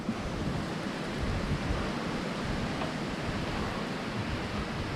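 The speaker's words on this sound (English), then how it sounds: "Oh, the wind is picking up." Strong wind roars steadily across the microphone, a dense, continuous rush with gusty swells and no voices.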